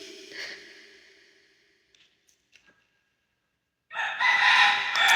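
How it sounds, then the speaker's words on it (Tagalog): A rooster crows loudly and close at the end, following a quieter earlier call and a few faint taps in between. "Yun lang may manok."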